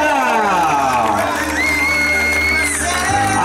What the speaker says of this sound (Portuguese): Uma salva de palmas para nossa homenageada!